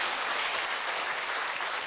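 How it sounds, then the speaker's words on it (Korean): Congregation clapping in a Korean Sunday church service, a dense, even burst of applause that fills the room briefly and stays loud throughout with no speech over it. "박수로 주님께 영광 드립니다"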